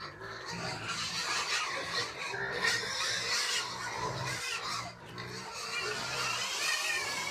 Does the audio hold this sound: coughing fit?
no